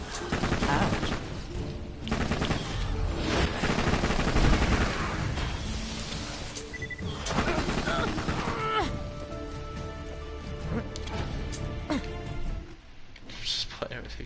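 Gunfire from a bandit pistol in Borderlands 2: dense, rapid bursts of shots and booms running almost the whole stretch, loud and continuous, with a voice talking over the game audio.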